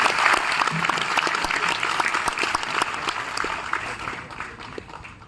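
An audience claps to welcome Dr. Chinmay Pandya to the stage at a devotional youth gathering, a dense, steady round of many hands that holds for several seconds before thinning at the end.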